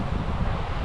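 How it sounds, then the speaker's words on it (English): Wind gusting across an exposed mountain trail in Jotunheimen, a brief, loud, close roar of buffeting microphone wind. "you are exposed to the wind"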